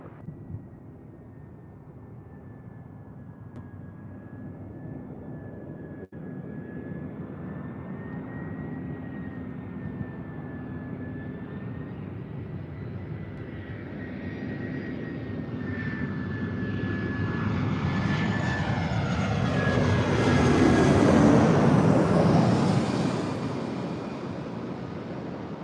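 A jet airliner approaches and lands at LAX, its engine roar building slowly from a distant whine into a loud, sweeping rush as it passes close by, then fading slightly at the end.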